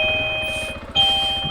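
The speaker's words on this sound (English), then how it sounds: "Sorry about the doorbell." A doorbell rings twice in two-tone chimes, clear and fairly loud over a steady low rumble of background noise, with a short dip between the rings.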